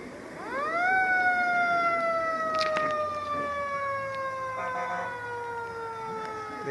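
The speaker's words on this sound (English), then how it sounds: "Siren usually indicates that's Santa Claus on the Marysville fire truck." A Marysville fire truck siren at a Christmas parade, a wailing tone that rises sharply and then holds while slowly sliding lower, loud and fairly close over faint street ambience.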